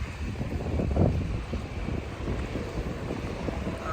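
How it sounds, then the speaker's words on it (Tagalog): Steady wind blows and buffets the microphone with a low, continuous rumble in a park in Taiwan, with no talking. "yan hangin"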